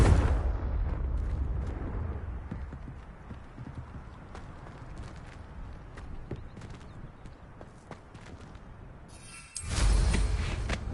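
In Hogwarts Legacy, the Confringo fire spell sets off a deep, booming blast that fades out. Scattered clattering follows, then a second loud burst erupts near the end.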